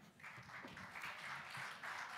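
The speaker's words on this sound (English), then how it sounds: "So please welcome with applause," Audience applause welcoming the Belgium team at a European enterprise challenge final, a steady wash of clapping from a crowd that swells slightly and holds at moderate loudness throughout, with no talking over it.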